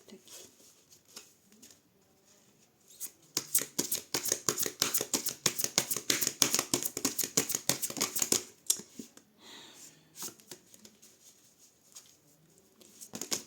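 Tarot cards are shuffled close by in a quiet room, a rapid riffling patter lasting several seconds, with softer handling of the cards before and after.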